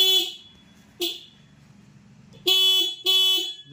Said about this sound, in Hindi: तो इग्निशन ऑन किया, यहाँ से हॉर्न बजाया